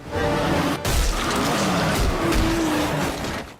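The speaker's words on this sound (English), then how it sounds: "He's hit by a car, and the camera lingers on the chaos." A car in a cartoon skids and slams into a character, giving a loud, close tire screech and rushing engine noise with a sharp impact near the start, followed by continued chaotic skidding.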